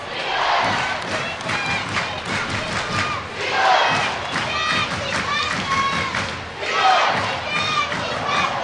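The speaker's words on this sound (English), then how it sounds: "The crowd are into this one." An ice hockey arena crowd roars and cheers steadily during a Nottingham Panthers at Sheffield Steelers EIHL game, a loud, dense wash of voices with surging shouts throughout.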